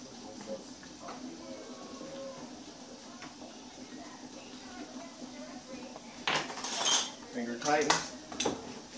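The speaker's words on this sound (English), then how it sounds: "Take my lids. Put them on." Metal lids clink against hot glass canning jars of freshly canned kale in a home kitchen, with a low murmur of voices at first, then a cluster of sharp, close metallic clinks and taps near the end.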